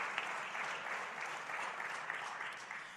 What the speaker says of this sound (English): We've all had big round of applause.